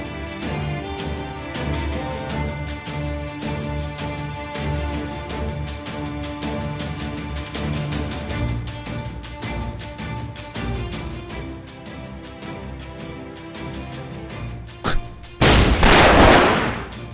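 In the video game Fate/Grand Order, Lostbelt 6.5 Traum, a sudden loud gunshot bursts near the end after a long stretch of steady game music.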